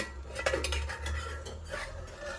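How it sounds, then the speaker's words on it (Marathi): Metal lid lifted off a cooking pot of Popat fish curry with potatoes, a few light clinks and scrapes of cookware over a steady low stove hum, close and moderately loud, no talk. "आता आपण झाकण आहे ते काढून घेऊया."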